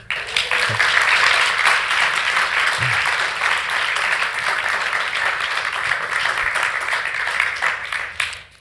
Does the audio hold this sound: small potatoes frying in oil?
no